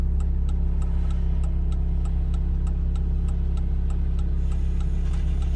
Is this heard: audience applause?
no